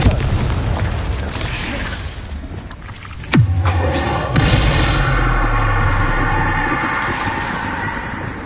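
A Confringo spell in Hogwarts Legacy bursts into a sudden deep boom midway, trailed by a rumbling, ringing decay under steady ambient game noise.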